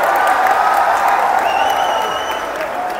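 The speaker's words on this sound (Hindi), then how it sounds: "एक बार जोरदार तालियों से पुनः देश के गौरव माननीय प्रधानमंत्री जी का अभिवादन करें।" Sustained, loud applause and crowd noise from a large audience at a Prime Minister's rally, steady and dense throughout with faint cheering mixed in.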